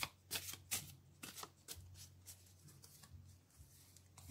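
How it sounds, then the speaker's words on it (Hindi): A deck of tarot cards is shuffled close by in a reading, giving a series of quick, soft riffling bursts with brief pauses between them, quiet and alone. "and final shuffle"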